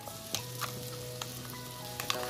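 Spices crackle and sizzle in hot oil as garlic and masala are tempered for a fish curry, a steady close frying hiss with a few sharper pops and no voices.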